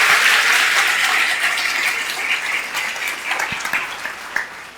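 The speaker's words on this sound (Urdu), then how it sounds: "سب یسوع کے لیے تالیاں بجائیں, سب یسوع کے لیے تالیاں" Church congregation at a Sunday service clapping for Jesus, steady dense applause from many hands throughout, loud and close, gradually thinning slightly toward the end.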